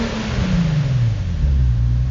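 A 2012 Infiniti G37x with an aftermarket cat-back exhaust revs up close and loud, its deep engine note rising steadily and then holding a sustained roar.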